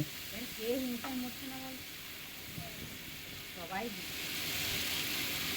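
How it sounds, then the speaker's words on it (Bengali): Khichuri masala with turmeric and salt sautéing in a pan, a soft, steady sizzle with occasional stirring scrapes, while a voice speaks over the start. "পরিমাণ মতো হলুদ আর পরিমাণ মতো নুনও দিয়ে দিলাম দিয়ে এবার এটাকে ভালো করে একটু কষিয়ে নেব"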